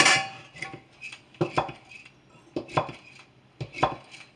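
Biscuit ingredients being stirred together in a bowl for homemade biscuits, a series of clinking, scraping utensil strokes against the bowl in uneven bursts, close and moderately loud with no talking.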